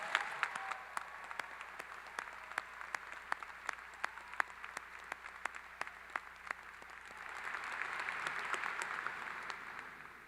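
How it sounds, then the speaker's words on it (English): Audience applause at a Clemson graduation ceremony, heard as distinct, fairly sparse individual claps spread across a large hall, swelling into a broader wash toward the end. "I think you all deserve a very loud round of applause."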